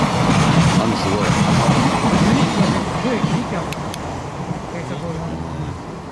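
A train rumbles past at night in the rain near the Matsukawa derailment site in Fukushima, with a loud continuous roar and rattling wheels. People talk faintly beneath the train noise.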